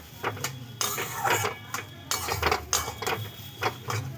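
A spoon stirring semolina with milk in a pan, giving repeated close scraping and clinking strokes against the metal in an uneven rhythm.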